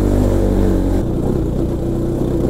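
Motorcycle engine revving hard in third gear after a service with new spark plugs, a loud, steady close-up roar that drops slightly in pitch partway through and keeps droning without letup.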